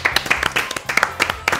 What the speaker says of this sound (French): Bravo Chaim, on peut applaudir.